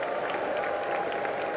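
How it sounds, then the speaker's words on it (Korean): Sustained, dense applause and cheering from members of the US Congress at a joint session for South Korean President Yoon Suk Yeol, steady and loud throughout with no pauses. "환호가 솟아나오고 있습니다"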